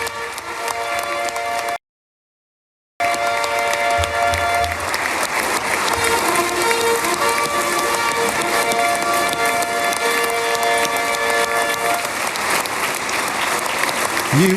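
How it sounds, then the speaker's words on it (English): A packed Knesset chamber gives a standing ovation, loud sustained applause and crowd noise with music mixed in, cut by a brief dropout of silence near the start before the roar resumes and continues. "The standing ovation you can hear in the background"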